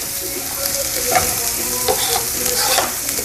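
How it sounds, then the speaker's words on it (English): Steady, loud sizzling of picadillo with onion frying in a hot pan, with clinks and scrapes of stirring through it. "It's gonna be super hot, so you're gonna hear that sizzle."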